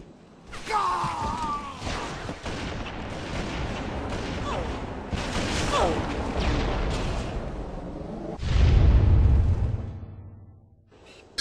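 Sniper rifle shots fired without a scope in the Halo video game, a few sharp booming reports with a heavy low blast near the end, mixed with game effects and faint voices.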